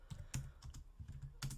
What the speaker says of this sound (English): I'll have to type that in because it's too far to scroll